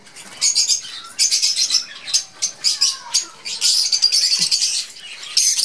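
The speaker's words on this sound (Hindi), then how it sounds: "यहाँ पे कुछ फ्रेंड्स बजीज रखे हुए हैं। उसके अलावा यहाँ पे ब्रीडर पेयर जो लगे हुए हैं उन्हें रखा हुआ है" Budgies and other parrots in an aviary with breeder pairs, a dense, continuous chorus of high chirps, tweets and squawks, close and loud, with no talking.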